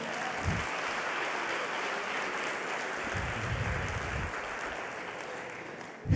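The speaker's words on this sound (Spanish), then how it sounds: "dar un aplauso al Señor" A church congregation applauds the Lord during a sermon on God's new work, a steady wash of many hands clapping that holds evenly for several seconds, with no talking over it.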